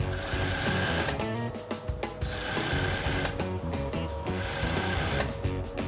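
An industrial sewing machine stitches the front collar of a cotton T-shirt in a garment factory, running in steady continuous bursts with a dense mechanical whir and brief pauses between runs.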